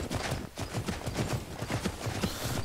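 Horse hooves clip-clop in a steady, even rhythm in the video game Rigmor of Bruma, the beats close and fairly loud over a soft ambient background, with no talking.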